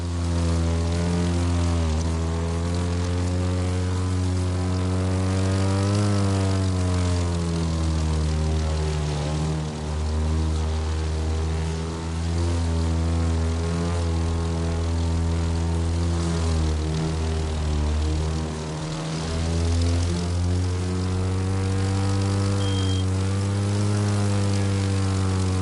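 A propeller plane engine in The Crew 2 drones loud and steady throughout, its pitch rising and dipping slightly as the aircraft maneuvers, with no voices over it.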